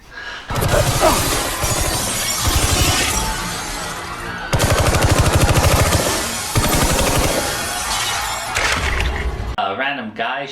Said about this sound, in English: A random guy shooting windows.